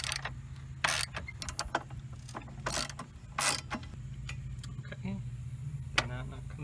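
Socket wrench with a 10mm socket ratcheting loose bolts during a fuel filter replacement, sparse close clicks and short scraping bursts over a low steady hum.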